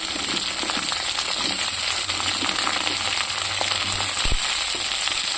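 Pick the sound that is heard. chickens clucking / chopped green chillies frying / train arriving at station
chopped green chillies frying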